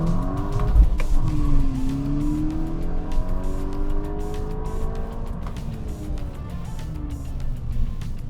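A car launches hard on a timed acceleration run with some wheel spin, its engine loud and close as it climbs through rising revs and gear changes, tires scrabbling briefly at the start.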